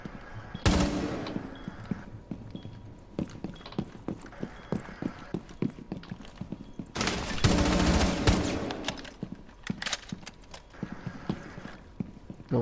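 Shotgun fire in a Rainbow Six Siege match: sharp, punchy reports scattered among rapid clattering footsteps and gunfire, with two louder, heavier bursts standing out near the start and in the middle.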